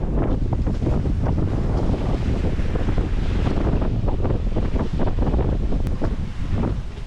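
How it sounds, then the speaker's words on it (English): Loud gusting wind and a big set of ocean waves wash over a sailboat on a rough passage from St Lucia to Bequia, a continuous roaring surge with crashing surf close by and no talk. "Here comes another big set of waves."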